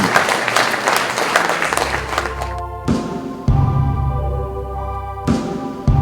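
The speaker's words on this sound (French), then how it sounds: "que je vous demande d'applaudir" Audience applause at a poetry performance, a burst of clapping at the start that fades after a couple of seconds, followed by sustained musical tones.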